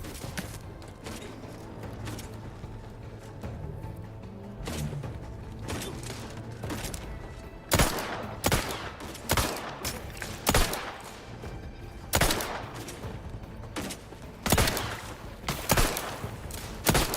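Gunfire in the video game The Outer Worlds 2, repeated sharp bursts of shots at irregular intervals, loud and close, with mechanical clanks and creaks between them.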